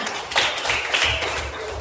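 Students in a classroom give a group a brief round of dense clapping that is close and steady and lasts under two seconds.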